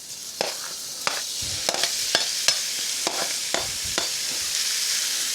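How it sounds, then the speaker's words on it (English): Beef sizzles steadily in a hot cast iron wok, a constant hiss broken by several sharp scraping clacks of a utensil stirring. "Yeah, hear that sizzle."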